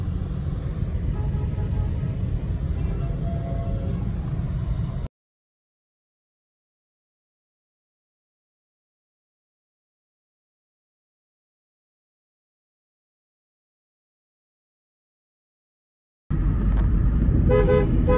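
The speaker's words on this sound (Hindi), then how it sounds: "ट्रैफिक भी काफ़ी ज़्यादा है, शाम का टाइम है तो शाम के टाइम में काफ़ी ज़्यादा ट्रैफिक होता है" Heavy evening road traffic with cars rumbling past and horns honking, loud and close, cutting out to silence partway through before the traffic noise and honks return.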